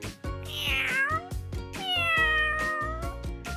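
A cat meows twice, long drawn-out calls close by, over a rhythmic low thumping background.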